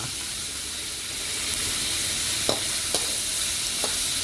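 Pork sizzling and hissing steadily in hot oil in a pan, a continuous bright frying wash with a few sharp clacks of a utensil stirring it against the metal, close and fairly loud.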